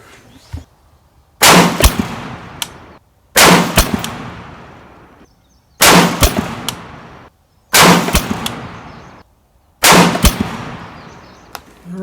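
Five sharp, loud rifle shots from an RRA 20-inch Varmint rifle at a 100-yard range crack out in steady succession about two seconds apart, each followed by a short echoing decay.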